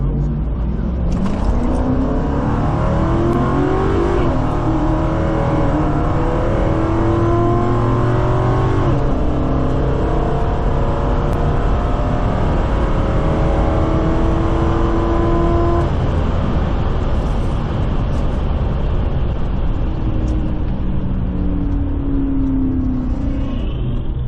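A Ford Mustang street car launching off the line at a drag strip street night, engine roaring at full throttle with rising revs and gear changes, loud and sustained, with crowd and announcer noise faint underneath.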